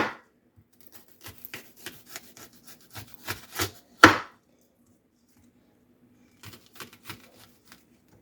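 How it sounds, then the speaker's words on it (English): Knife chopping vegetables on a cutting board during food prep for barbecue chicken, a series of quiet, uneven taps in bursts with pauses and one louder chop in the middle. "when we get through doing all this chopping, we're going to make our sauce"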